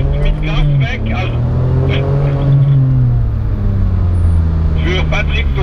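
A drift car accelerates at a drift event, its engine droning steadily with rising and falling pitch through the whole stretch while people talk over it.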